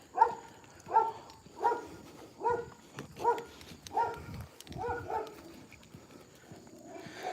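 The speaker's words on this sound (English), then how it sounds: "We got dogs barking at us already." Dogs bark repeatedly outdoors during a morning walk, a steady series of about nine mid-distance barks spaced roughly a second apart, fading slightly toward the end.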